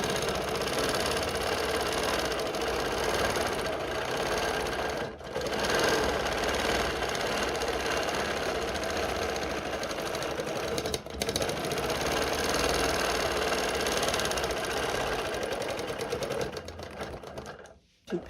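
A home sewing machine stitching a pinwheel quilt, running in a steady loud mechanical whir with two brief pauses and a stop near the end.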